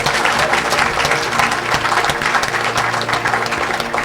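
A church audience applauds steadily and cheers, a continuous wash of clapping hands at close range with voices mixed in throughout.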